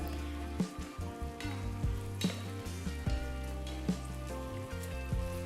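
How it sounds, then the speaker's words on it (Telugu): Sliced onion and slit green chillies fry over a high flame for mutton biryani, giving a steady close sizzle with occasional stirring knocks and scrapes against the pot. "పొడవుగా తరిగిన 1 ఉల్లిపాయ, చీల్చిన 2 పచ్చిమిరపకాయలు వేసి హై ఫ్లేమ్లో వేయించాలి"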